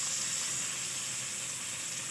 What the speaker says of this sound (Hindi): आपने इसको ब्राउन कर लेना है, हल्का हल्का ब्राउन करना है हमें।